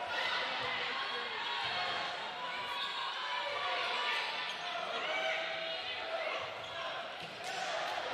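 Loud crowd at a Big Ten college volleyball match, Michigan State at Indiana, roaring and cheering in a steady, dense wall of noise for the whole stretch, with faint voices mixed in.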